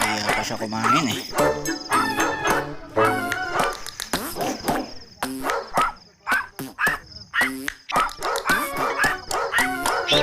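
A dog barks and yips repeatedly at close range, mixed with whimpers and some talking nearby.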